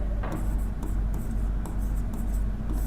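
Marker strokes on a board during a polity lecture come as a string of short scratchy rubs in an uneven rhythm, close and fairly quiet.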